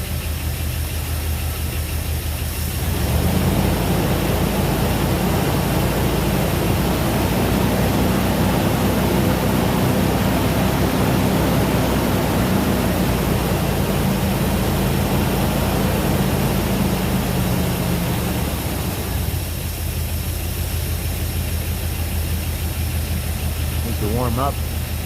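Jeep engine running just after reinstallation with new connecting rod bearings, a loud steady idle with a slightly rattly drone that rises after a few seconds and eases back near the end, continuous throughout.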